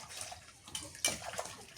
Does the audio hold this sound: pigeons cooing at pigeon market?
no